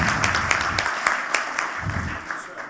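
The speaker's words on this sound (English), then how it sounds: "give him a very warm round of applause and welcome to the stage." Audience applause greets a speaker taking the stage at the Startup Turkey 2013 conference, a steady dense wash of clapping filling the whole stretch with a slight swell near the end.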